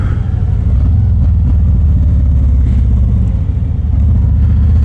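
A 2024 Harley-Davidson Street Glide motorcycle engine rumbles loud and close while downshifting in the rain, its deep throbbing note rising and dipping steadily throughout.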